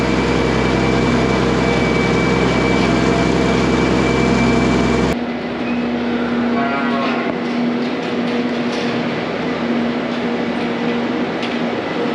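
Hungry dairy cows in a barn, just out of feed, lowing amid a steady mechanical hum from barn machinery, with calls rising over a continuous loud background drone.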